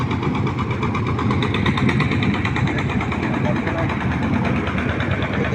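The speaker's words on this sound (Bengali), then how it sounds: "এই যে একটা লঞ্চ আসতেছে" A passenger launch's engine drones in a steady, loud, close rumble as the boat arrives at Boga ferry ghat, with a voice talking over it.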